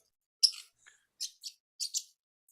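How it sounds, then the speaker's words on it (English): Several short, high bird chirps and tweets come in quick separate bursts, fairly faint, with silence between them and no talking. "I hear the birds"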